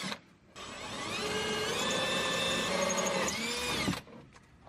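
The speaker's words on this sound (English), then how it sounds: "drill 2 1/4-inch holes through the support frame" A power drill bores 1/4-inch holes through the metal shifter support frame of a Polaris RZR side-by-side, one steady loud whirring run of about three and a half seconds with a rising pitch near the end, bracketed by quiet.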